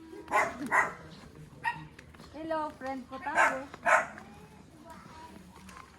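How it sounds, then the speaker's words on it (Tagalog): A dog barks a few times near a rural house and fruit tree in Janiuay, with sharp yips breaking through while someone talks over it. "Hala, baka kagatin tayo ng aso dito."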